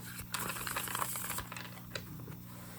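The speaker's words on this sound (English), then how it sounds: "I'm going to give this a riffle shuffle" Tarot cards riffle-shuffled up close, a quick papery flutter and crisp snapping of card edges over a steady background hum, with a few light taps at the end.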